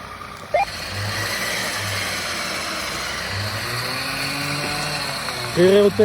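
A Red Winches winch on a Grenadier 4x4 winds in cable with a steady mechanical whir under an idling engine, brief revs rising near the end and faint voices in the background.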